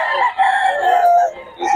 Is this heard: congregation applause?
no